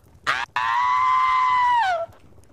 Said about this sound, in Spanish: Tu caballo ha muerto, Nefa.